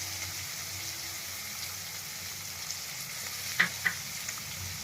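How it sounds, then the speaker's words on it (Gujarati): Finely chopped tomatoes frying in a pan for pasta, a steady close sizzle with a couple of brief clinks of a utensil near the end, no voices. "હવે આપણે એમાં 2 ઝીણા કાપેલા ટામેટા એડ કરશું"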